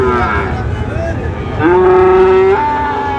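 Friesian bull calves at the Raniganj cattle market give loud, close, drawn-out moos, one rising call after another, over a low murmur of market noise.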